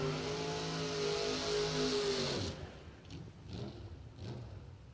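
Mustang drag racing car at a doorslammer drag strip, engine roaring loud and high then cutting off abruptly, followed by quieter pops and background engine noise.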